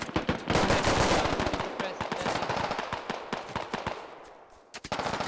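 Rapid bursts of automatic gunfire and single shots crackle nonstop in the tactical shooter Squad, loud and close with echoing reports, dropping briefly near the end before firing resumes.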